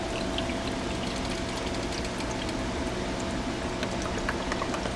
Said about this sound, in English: We're gonna get our Worcestershire sauce and give it a little more love in there.